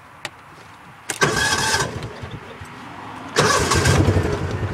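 A Kawasaki Mule 610 utility vehicle with a newly replaced starter cranks and fires up twice, each time a loud burst of engine noise settling into a close, running idle, with a sharp click beforehand.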